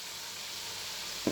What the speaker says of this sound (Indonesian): ini masih goreng